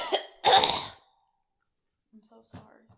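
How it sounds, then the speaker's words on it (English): A single loud, close cough with a short throat sound before it, then quiet, faint breathing noises during a podcast recording. "Me coughing?"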